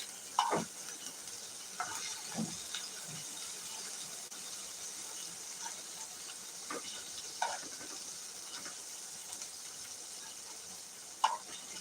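Masala okra (bhindi) frying in a covered pan gives a faint, steady sizzle and hiss, with occasional soft clinks of the lid or utensil scattered throughout.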